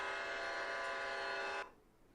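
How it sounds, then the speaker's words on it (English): A video game train locomotive gives one steady, loud horn-like tone for about a second and a half, then cuts off abruptly, leaving faint background noise. "that locomotive up here. Yeah, I know it's not loud. I'll turn it up a bit."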